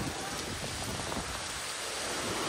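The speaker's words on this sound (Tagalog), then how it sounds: "ang lakas na ng ulan at saka hangin. Ito na talaga ang bagyo." Heavy typhoon rain pours down in a dense, unbroken roar, with gusty wind blending into the steady downpour.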